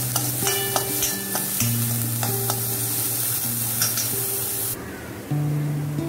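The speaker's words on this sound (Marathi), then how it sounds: "आता हांवें कायलींक तेल घाला आनी म्हजो कांदो आसा तो हांव तळसून घेता" Chopped onion frying in oil in a pan for a Goan Saraswat brinjal and capsicum masala: a steady, bright sizzling hiss that runs continuously, then drops away abruptly near the end, with sustained tonal music underneath throughout.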